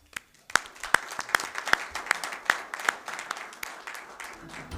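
Applause from the audience at a Chamber of Commerce candidates forum, a steady patter of clapping from a moderate-sized crowd, with a few louder claps standing out near the start and the sound thinning gradually.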